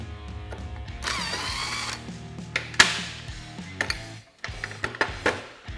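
A power tool whirs in short bursts while removing the clutch arms of a Polaris RZR XP 1000, close and loud, with a rising spin-up, pauses, and metallic clicks and clunks of hardware in between.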